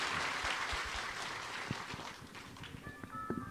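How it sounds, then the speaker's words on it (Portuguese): A church congregation at a mass for Padre Cicero gives the bishop a round of applause, fairly faint and a little distant, with scattered claps tapering off and a brief tone near the end. "para o nosso bispo, uma calorosa salva de palmas."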